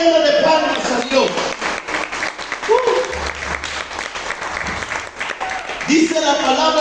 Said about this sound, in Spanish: Dale una ofrenda de palmas a Dios.